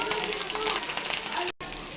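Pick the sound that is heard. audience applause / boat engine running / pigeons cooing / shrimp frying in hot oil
shrimp frying in hot oil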